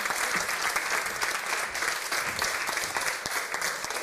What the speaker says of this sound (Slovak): Ďakujem za potlesk.